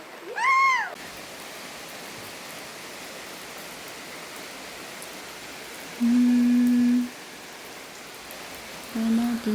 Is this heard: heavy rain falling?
yes